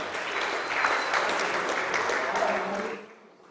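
Applause from the crowd at the opening ceremony of the WSF Under-23 World Squash Championship as Team France holds up its flag, a steady wash of many clapping hands that tapers off at the close.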